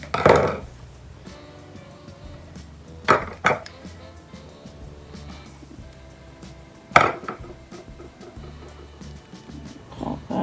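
Scissors snip small squares of foam mounting tape for handmade Valentine cards, three crisp, separate cuts spread across a quiet tabletop, with faint handling noise between them.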